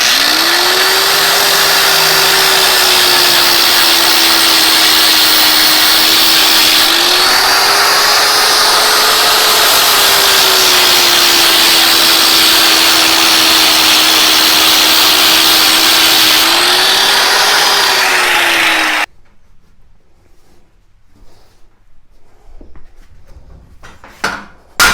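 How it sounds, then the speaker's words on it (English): An angle grinder runs along the metal edge of a budget workbench, a loud continuous high whine with slight pitch dips as it bites into the steel, stopping abruptly near the end and leaving faint clinks and handling noise. "I'm going to go ahead and just grind a little bit along the edge"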